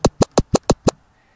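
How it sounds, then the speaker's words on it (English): Six quick keyboard-triggered DJ scratches on deck B in Virtual DJ software, evenly spaced bursts in rapid succession, each a short sweeping swish, loud and clean, ending in silence. "then the scratches on deck B sound like this"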